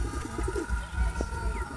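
Pakistani pigeon cooing in soft low repeated phrases, moderately close, over a steady background hum with a faint tonal drone.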